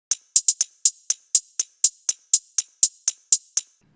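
Hi-hats treated with light reverb, EQ cutting the low end and Soothe 2, a steady pattern of bright ticks opening with a quick roll, each hit trailing a short soft tail, alone and fairly loud.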